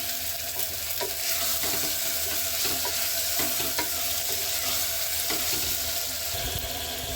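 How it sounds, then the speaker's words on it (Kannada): Tomatoes frying in a pan with chillies for a tomato bath dish, giving a steady close sizzle with scattered scraping taps from stirring throughout, no talking. "ಟೊಮೊಟೊ ಎಲ್ಲ ಚೆನ್ನಾಗಿ ಫ್ರೈ ಮಾಡ್ಕೊಬೇಕು."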